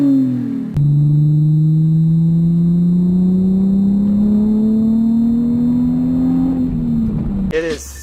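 A Nissan 350Z's V6 engine revs up smoothly in one long rising pull, its tone climbing steadily before easing off, loud and close.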